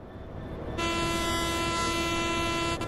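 Train Sim World on Xbox: a train horn blasts loudly and steadily, starting about a second in and holding for roughly two seconds over a low rail rumble.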